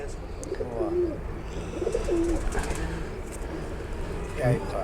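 Pigeons coo in repeated low, warbling phrases at close range, each lasting under a second, while someone talks over a constant background murmur.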